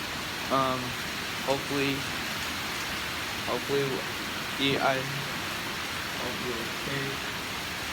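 Heavy hurricane rain and wind form a constant broadband roar throughout, while a person speaks in short bursts over it.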